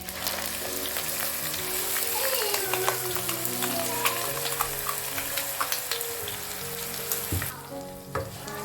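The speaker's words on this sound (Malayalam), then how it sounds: "നമ്മൾ അരച്ചു വെച്ചിരിക്കുന്ന ചമ്മന്തി ഉണ്ടല്ലോ, അത് നമുക്കിതിലേക്ക് ഒഴിച്ചു കൊടുക്കാം." Ground urid dal chutney hits a hot tempering of curry leaves and dried chillies, setting off a loud, sustained sizzle with spoon-stirring scrapes that drops away sharply near the end.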